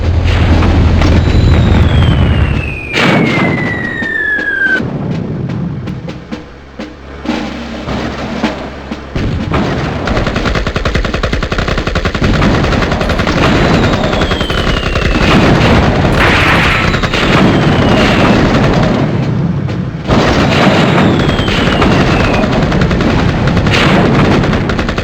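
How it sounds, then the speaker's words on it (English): Airstrike explosions and gunfire in the 1998 Army Men game's multiplayer mode: repeated loud booms, rattling bursts and descending whistles of incoming bombs overlapping continuously throughout. "I need an airstrike."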